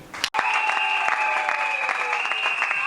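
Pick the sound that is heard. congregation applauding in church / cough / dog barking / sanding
congregation applauding in church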